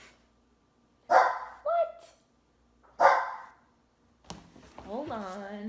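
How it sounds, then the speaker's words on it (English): A dog barks in two sharp bursts about two seconds apart, fairly close, each followed by a short yelp; afterward a voice speaks briefly. "He barks to get out of his nap, and then he barks to get back in."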